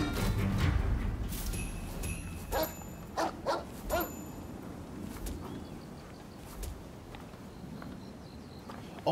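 Dog barking in the PS5 game Rise of the Ronin: a few short, moderately loud barks in the middle of the clip, set against a busy bed of game ambience and music.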